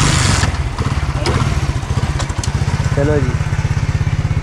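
Motorcycle engine running near at a steady, rapid, thumping idle after a kick-start, someone briefly speaking over it.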